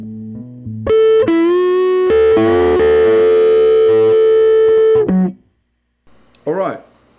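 Teye La Llama electric guitar played loud through a preamp with sub-harmonic fuzz, a run of sustained distorted notes stepping upward then sliding, cutting off before a short bent squeal near the end, with no talking.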